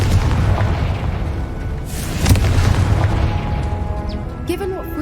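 A Confringo fire spell explodes in Hogwarts Legacy, a heavy booming blast with a sharp crack at its peak over a dense rumbling bed of game ambience and music, while a voice speaks faintly.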